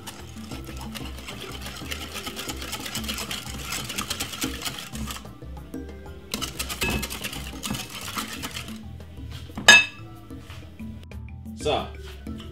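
Sugar mixture whisked in a bowl makes rapid, rhythmic clicking and tapping in bursts separated by short pauses. One sharper clank rings out near the end, over a busy background.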